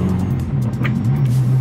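Car engine fitted with an aftermarket exhaust line, heard from inside while driving warm with no power steering: a loud, steady low exhaust drone that shifts pitch slightly as revs change, continuous and close throughout.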